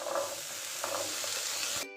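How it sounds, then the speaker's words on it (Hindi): Chickpeas sauté with spices in a pan over low flame, giving a steady close sizzle with a few soft stirring scrapes before it cuts off abruptly. "और अब हम 4 से 5 मिनट इन्हें अच्छे से भून लेते हैं"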